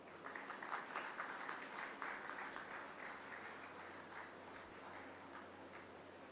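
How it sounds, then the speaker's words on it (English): Audience at a foundation day and awards ceremony applauds a singer invited for a special performance: soft, steady clapping that sounds distant and quiet throughout, with no talk. "A warm round of applause, please."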